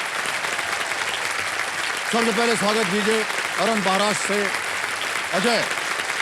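Studio audience applause on a television quiz show, a steady wash of clapping running beneath a host's voice announcing contestants.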